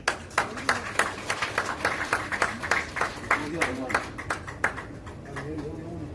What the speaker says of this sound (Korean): 박병 박사님 큰 박수로 모시겠습니다.